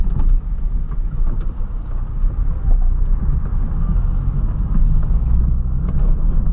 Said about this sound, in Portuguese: Rolezão de Ford Ka.